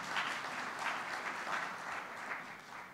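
Audience at a Kenyan manufacturing summit applauds the President, a steady wash of many hands clapping at moderate level, evenly sustained with gentle swells and no speech over it.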